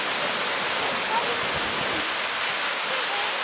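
Steady, full roar of Creek Falls waterfall, a dense wash of rushing water filling the whole clip without breaks.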